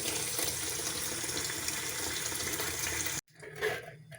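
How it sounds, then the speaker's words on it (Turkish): Tomatoes rinsed under a running kitchen tap, a steady loud gush of water pouring for about three seconds before cutting off abruptly, followed by faint wet handling sounds. "Domateslerimizi yıkadık."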